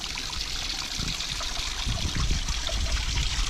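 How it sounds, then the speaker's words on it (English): Running water trickling over ice and moss outdoors, a steady close babble and dribble that holds level throughout with no other sounds. "Ice, water, and moss. Running water"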